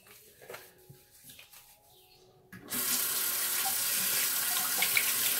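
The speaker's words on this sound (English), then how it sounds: "Rinse off really quick." Water from a tap suddenly gushes on and runs steadily into a sink to rinse off after shaving with a shavette, following quieter handling noises and faint birdsong.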